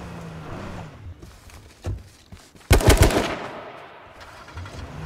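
Gunfire in the video game H1Z1: a short burst of rapid shots near the middle, loud and close, with a fainter single shot before it against low background game noise.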